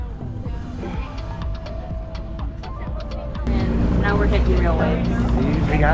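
A motorboat engine roars steadily off Bali, growing louder and rougher midway as the hull slaps and thuds over choppy waves, with wind noise throughout.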